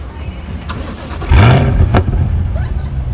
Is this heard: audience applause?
no